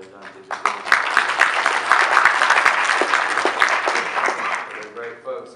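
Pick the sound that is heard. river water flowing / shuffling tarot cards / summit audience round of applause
summit audience round of applause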